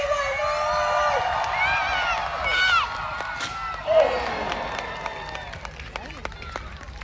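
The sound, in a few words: crowd cheering at jousting at Hampton Court Palace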